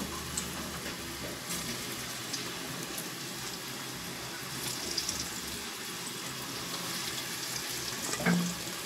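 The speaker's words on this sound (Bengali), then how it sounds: "এভাবে আমি ভেজে নিচ্ছি সবকটা।" Phuluri fritters deep frying in oil, a steady hiss and bubbling sizzle throughout, with a few faint clinks near the end.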